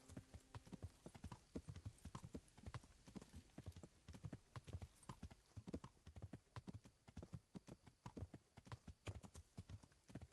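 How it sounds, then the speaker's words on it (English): Steady, rhythmic clip-clop of horse hooves on hard ground in the video game Kingdom Come: Deliverance, at night, continuing at an even walking pace throughout with no talking. "just riding around on your horse in pitch black"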